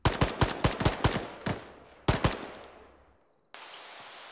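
Rapid bursts of gunfire ring out in a military combat video game, a quick volley of sharp cracks followed by a short second burst with echoing tails, then a fainter steady hiss.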